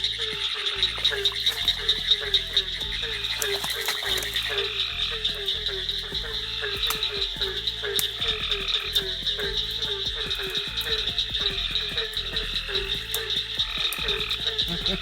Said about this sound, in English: Do you hear this digga sound? Sounds kind of like a frog machine gun. That's the pine woods tree frog.